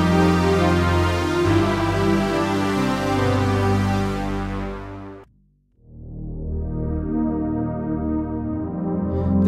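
Synth pad patch from Native Instruments Massive sustains a rich, full chord, fades into a brief silence, then swells back in, loud and alone.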